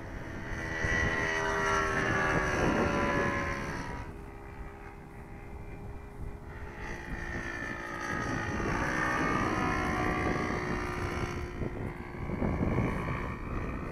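A biplane's propeller engine drones steadily, swelling and fading as it passes, with wind buffeting the microphone and no talking.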